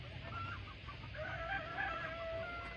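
Local chickens and a rooster on a poultry farm cluck and call in short, scattered bursts over a steady background hum, fairly faint and without speech.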